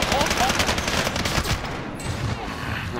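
Rapid automatic gunfire from a Call of Duty: Modern Warfare match, dense bursts of shots rattling almost continuously near and loud, easing slightly toward the end.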